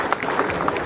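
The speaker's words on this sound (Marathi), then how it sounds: "जोरदार टाळ्या वाजल्या पाहिजे" A hall audience at an airport and aviation employees' union inauguration claps during the announcement of office-bearers' names, a brief burst of scattered applause with faint voices mixed in.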